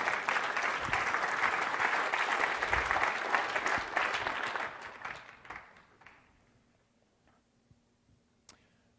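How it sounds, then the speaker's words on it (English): Audience applause at a Microsoft Ignite tech conference session, a full burst of many hands clapping that thins and fades after about six seconds, leaving a few scattered late claps in a quiet hall. "You can clap for that if you want to."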